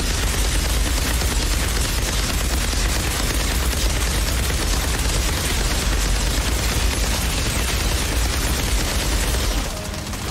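Sustained, dense automatic gunfire roars nonstop in the Outriders shooter on PC, loud and close with heavy booming low end, easing slightly only at the very end.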